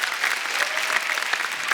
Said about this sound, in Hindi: जोरदार तालियां एक बार हमारे सब कलाकारों के लिए।